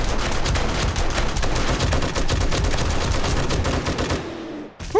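Sustained automatic turret gunfire in the survival game 7 Days to Die, a dense rapid stream of loud shots running for about four seconds before cutting off.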